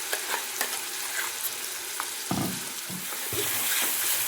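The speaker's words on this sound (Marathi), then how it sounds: "ग्रेव्ही व्यवस्थित भाजून घ्यायची आहे." Masala gravy for egg curry fries in a pan with a steady broadband sizzle, broken by several spoon-stirring scrapes and clatters partway through, close and fairly loud, with no talking.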